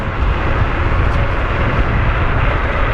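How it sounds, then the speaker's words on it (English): A YUME Hawk 2400-watt electric scooter accelerating hard at full throttle from around 30 mph, heard as a loud, steady rushing roar of wind and road noise that stays constant throughout with no pauses. "If I'm gonna slow down to, you know, 30 miles per hour or so, and then just hit the throttle, and we just take off."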